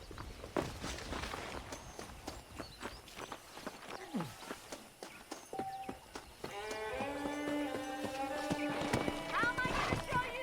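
Horse hooves clip-clop on a ranch in the Red Dead Redemption video game, a walking rhythm of steady hoof thuds, with a brief whinny and a voice speaking over the later part.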